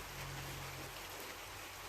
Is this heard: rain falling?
yes